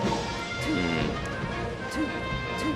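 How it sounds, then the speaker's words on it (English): Fox's up smash attack in Super Smash Bros. Melee during a tournament match against Sheik, heard as sharp in-game hit and swoosh effects repeating over a busy, constant game soundscape. "Ooh, up smash, just a little mistimed."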